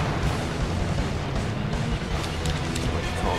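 Artillery cannon strike exploding in The Outfit video game: a dense, continuous low rumbling blast that holds steady and loud for several seconds with no talk over it.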